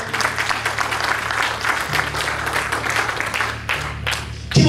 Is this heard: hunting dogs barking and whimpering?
no